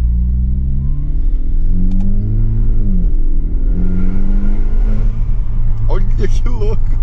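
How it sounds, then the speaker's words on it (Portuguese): A Volkswagen Polo GTS with an aftermarket intake revs hard close by, its engine note climbing steadily as the turbo spools, then breaking into sharp whistling, chirping bursts near the end. "É só pisar tudo pra deixar aqui a turbina encher"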